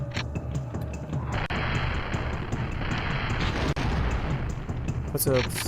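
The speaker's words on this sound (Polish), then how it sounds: "strzały." Gunfire and booms in the N64 game Turok: Dinosaur Hunter (1997) sound over a dense, continuous roar of in-game noise, with a few sharp cracks standing out and a high electronic tone near the end.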